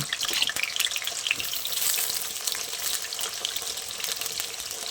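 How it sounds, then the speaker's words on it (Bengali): Potato pieces frying in oil in a pan, a continuous bright crackling sizzle with scattered pops and spits, moderately loud and close, no voices. "এরপর আলুগুলো ভেজে নিচ্ছি।"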